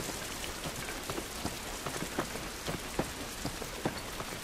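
Steady rain in The Last of Us video game pattering on a surface, dense and even, with individual drops ticking out now and then; no voices.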